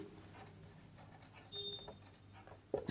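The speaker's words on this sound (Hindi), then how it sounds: "तो यहां पे हम एक लाइन लिखेंगे भाई" Chalk scratching a line across a classroom board, a short dry stroke over faint room noise, close and fairly quiet.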